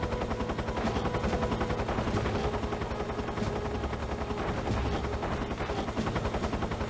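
Rapid heavy gunfire from a big gun in Metal Gear Solid 3, a dense, continuous stream of shots with no voices over it.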